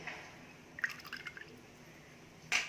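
Rose sharbat syrup poured into strained sweetened milk, brief soft liquid drips and splashes over quiet background, ending in a short louder pour.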